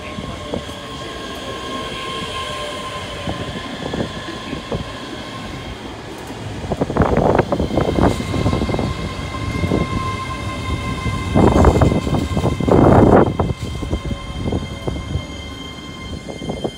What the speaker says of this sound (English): Here comes a ScotRail 385.